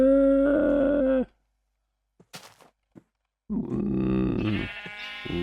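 Sheep in Minecraft bleat in the broken script mod, two loud, close wavering bleats separated by a near-silent gap with a few faint clicks.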